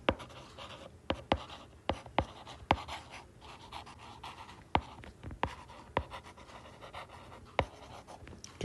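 Pen writing out numbers on paper during a math lesson, a close series of sharp taps and scratches in irregular rhythm with quiet gaps between strokes, no talk.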